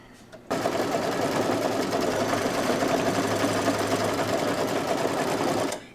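An embroidery machine stitches an owl block for a Halloween placemat, starting abruptly and running in a steady, rapid mechanical chatter for about five seconds before stopping, loud and close.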